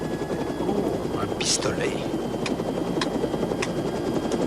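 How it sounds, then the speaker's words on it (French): A helicopter in flight drones steadily throughout, a continuous loud rotor and engine roar under a brief spoken line and a few sharp clicks. "À présent, fais atterrir cet hélicoptère."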